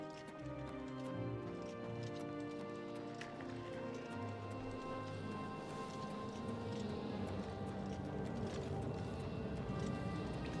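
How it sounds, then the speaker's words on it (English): A horse's hooves clip-clop steadily in Oblivion Remastered, a continuous running gait of rapid hoofbeats layered over dense game music and ambience from start to finish. "Ah, my horse."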